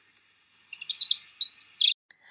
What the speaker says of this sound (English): They have a very high-pitched little song compared with some of the other birds.